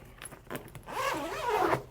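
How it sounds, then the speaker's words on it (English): A zipper pulled open along the front compartment of a carry-on suitcase, a few short ticks and then a long, loud rasping run close to the microphone, with no talk. "if we actually go ahead and open up the front component of the zipper"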